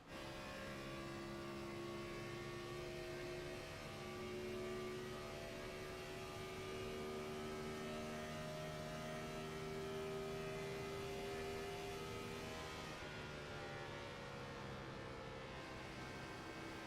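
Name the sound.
race car engine revving high in iRacing video game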